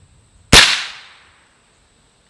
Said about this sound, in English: let's switch back to the 22 long rifle, and we're going to shoot that tomato just to see what it does